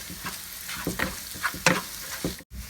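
Onions with curry leaves and salt are sautéed for a fish molly, with a close spoon stirring and scraping in several strokes over a low, steady sizzle.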